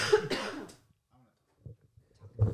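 Two quick, harsh coughs at the start, fairly close, followed by near silence and a few faint, low sounds.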